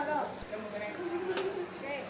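Bánh xèo batter sizzles in cast iron pans, a soft continuous crackle and hiss with faint tonal sounds nearby over a short stretch.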